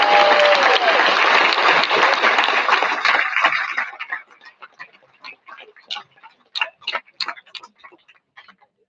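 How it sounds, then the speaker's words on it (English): Audience at a Greenwave Hall of Fame induction ceremony giving inductees a round of applause: loud, full clapping that thins after a few seconds into scattered, fading individual claps. "would you please give all of our new inductees one more round of applause?"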